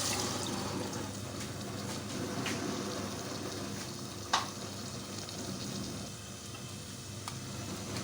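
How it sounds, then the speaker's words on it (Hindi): Water is poured into a pan of frying Chinese food with green onion tops. There is a busy steady sizzle, one sharp splash and a few faint ticks, close and without talk. "इसमें पानी डालते हैं।"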